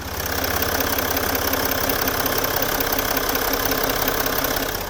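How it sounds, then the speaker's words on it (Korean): A Range Rover with a replaced engine idles steadily under its open hood, a smooth even hum with no change in pace, recorded close with no speech. "엔진 소리 들려드리려고 제가 시동 건 상태로 이렇게 본네트도 열어놨습니다."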